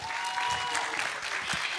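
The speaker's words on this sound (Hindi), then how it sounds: "जोरदार तालियां हो जाए।" Audience applause at a televised singing and dance competition round, steady dense clapping from a crowd throughout, close and full with a few faint voices mixed in.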